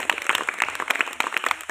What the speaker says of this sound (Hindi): जोरदार तालियां बिटिया के लिए भाई